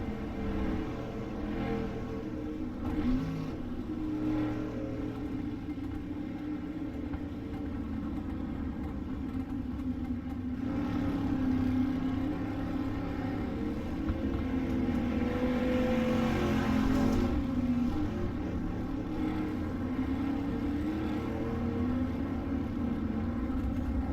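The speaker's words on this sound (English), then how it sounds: "The pace truck leads the field around the track." A pace truck leads the field of dirt street stock race cars around the track under a yellow flag in iRacing, its engines droning in a steady mid-pitched hum that swells slightly partway through.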